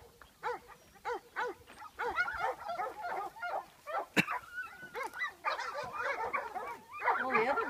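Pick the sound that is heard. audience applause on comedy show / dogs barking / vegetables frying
dogs barking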